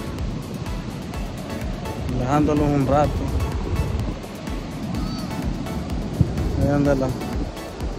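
Ocean waves washing on the shore at El Cuco beach in San Miguel, a steady broadband roar beneath someone speaking while walking along the water's edge.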